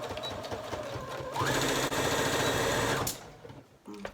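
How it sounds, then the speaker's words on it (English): Sewing machine running a straight stitch along the edge of a cloth face mask, a steady close whirring burst of about a second and a half that stops abruptly, with quieter handling noise before and after. "We're just going to use an ordinary straight stitch."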